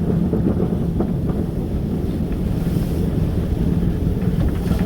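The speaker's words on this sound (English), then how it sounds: "Wind's up at 31 knots now. It's not great." Strong wind of about 31 knots at sea roars continuously across the microphone in a loud, unbroken buffeting rumble, with the wash of waves and boat noise mixed underneath and no voices.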